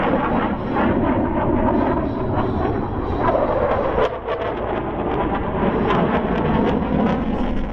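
Military aircraft roaring overhead at an airshow while deploying flares, a loud, continuous broadband jet rumble filling the whole stretch with a slight swell midway and no talking.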